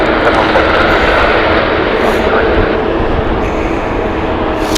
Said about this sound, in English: Beautiful Egypt Air, which just landed a minute ago.